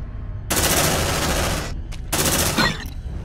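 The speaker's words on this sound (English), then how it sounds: "Suppressive fire!" Suppressive fire in Aliens: Dark Descent comes as two long, loud, dense bursts of rapid automatic gunfire, close and harsh, separated by a short gap with a few scattered shots.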